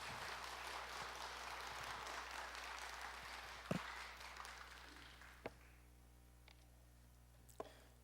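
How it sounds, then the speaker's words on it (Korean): Steady applause from a church congregation fills the first half, then fades out, leaving a quiet room with a few isolated clicks. "박수로 함께 환영하겠습니다."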